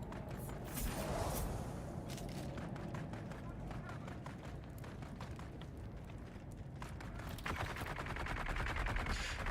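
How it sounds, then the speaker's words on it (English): Gunfire in a video game set on Arrakis: repeated sharp shots and bursts crackle at a distance beneath a steady bed of game ambience, with speech present throughout. "someone's clearly shooting something"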